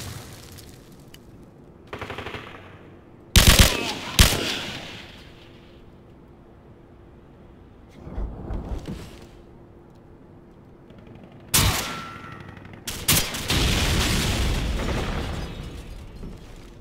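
Call of Duty 4 Modern Warfare multiplayer gunfire comes in scattered bursts: sharp single shots, short rattling volleys and louder booming blasts separated by quieter pauses, ending in a sustained roar of fire, with no one talking.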